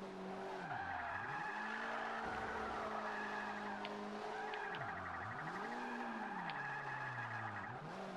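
Tires of a 1998 Talon TSi Turbo drifting in Forza 5 screech in long wavering squeals, rising and falling repeatedly over a steady engine drone, loud and close with no talking.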